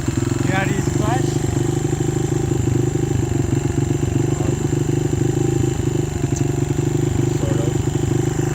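A Honda XR100 dirt bike idles in the snow with a constant, loud, close engine drone that holds steady throughout, while people talk faintly over it.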